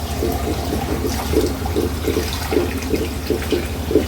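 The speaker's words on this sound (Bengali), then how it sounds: "বন্ধুরা, চালটা ধুয়ে নিচ্ছি" Rice is washed by hand in water, with rhythmic swishing splashes about twice a second over a steady low rumble of running water, close and fairly loud.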